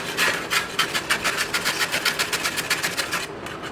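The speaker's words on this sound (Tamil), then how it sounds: "இந்த 2 பீட்ரூட்டையும் நல்லா துருவி எடுத்துடலாம்" Two peeled beetroots rubbed against a kitchen grater, a steady run of quick rasping strokes close by, each stroke a bright scratchy burst in an even rhythm.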